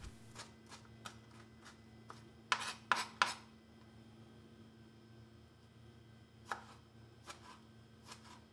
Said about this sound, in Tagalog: hiwain ng maliliit para mas masarap at mas mabilis haluin